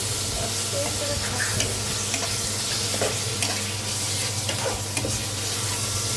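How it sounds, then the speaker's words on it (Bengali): Onions and spices being stir-fried in a pan for a pigeon bhuna, with a loud, steady sizzle and frequent stirring scrapes running throughout, close by and with no talking. "পেঁয়াজটা কষাই নিচ্ছি, কষাই নেওয়া শেষ।"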